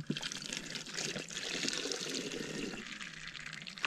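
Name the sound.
freezing water trickling through a camping water filter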